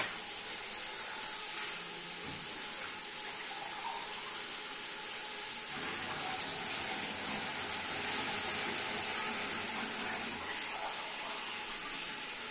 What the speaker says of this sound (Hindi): अब इसमें सबसे पहले पानी डालेंगे।